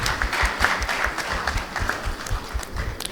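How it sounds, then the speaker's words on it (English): Audience at a journalism ethics forum in Nigeria applauding, a moderate crowd of clappers with distinct individual claps standing out over a soft steady patter, heard at some distance. "Please, a round of applause for Dada Olusegun."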